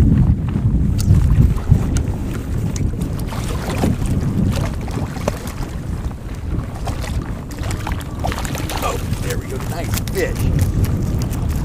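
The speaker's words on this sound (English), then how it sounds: "Tricky in this wind." Strong wind buffeting the microphone on a small boat trolling a fly for trout, loud gusty roar with water sloshing against the hull, continuous throughout, and a voice talking faintly under it.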